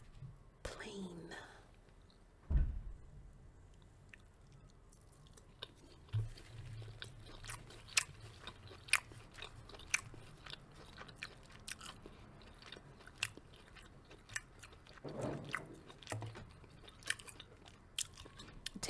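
Close, soft chewing and biting on tofu teriyaki, with occasional crunches and mouth sounds spread through a quiet stretch and some whispered talk.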